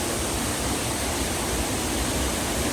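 Sam Nong Khet waterfall in Ubon Ratchathani, Thailand, pours with a dense, unbroken roar of falling water, loud and close, steady from start to finish with no voices over it.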